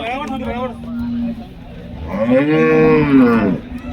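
A Holstein Friesian cow at a cattle market lets out a low moo, then a longer, louder drawn-out bellow, close by and clear against a quiet background.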